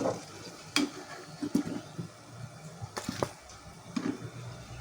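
Litti dough balls frying in oil while being turned, a soft bubbling sizzle with scattered knocks and scrapes of a utensil against the pan, fairly quiet and without speech.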